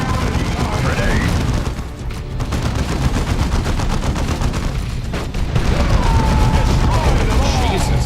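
Dense, continuous gunfire and booming explosions from a battle in Dawn of War II Anniversary Edition, loud and chaotic, with shouted voices mixed in.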